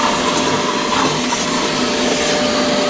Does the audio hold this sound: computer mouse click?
no